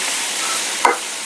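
Green chillies and onion frying in oil in a pan, a continuous soft sizzle with one brief stirring scrape near the end.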